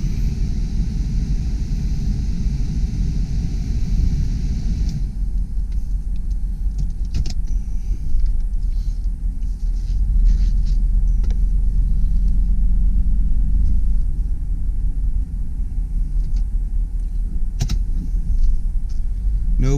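A 1997 Pontiac Firebird Formula with a 5.7L V8 idles with a steady low rumble while being shifted out of park into reverse and then drive, its engine note changing slightly with each gear engagement, close and loud with no talking.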